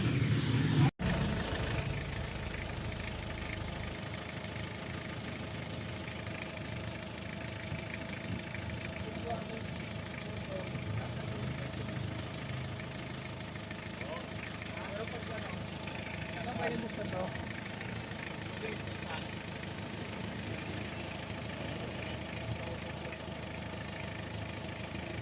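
A newly overhauled owner type jeep engine idles with a steady, even mechanical drone, close and continuous for the full length after a brief bump at the start.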